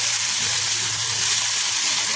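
Bitter gourd leaves fry with salt and turmeric in a pan, giving a loud, continuous sizzle close by. The bright, even crackle holds steady with no talking.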